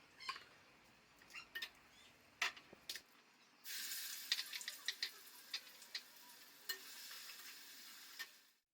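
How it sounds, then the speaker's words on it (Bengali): Onion frying in a kadai, a steady bright sizzle that swells up partway through, with scattered clicks and stirring knocks, close and moderately loud, with no talking. "পেঁয়াজটা এটা দিয়ে দিয়েছি কড়াতে"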